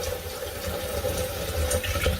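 Warm water runs steadily from a tap, a constant close rushing stream for a baby's bottle, with no voices.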